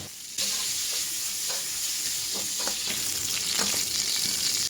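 Pork belly fries in its own rendered oil with a steady, loud sizzle. The sizzle begins abruptly after a brief quiet start, and several spatula scrapes and taps sound through it.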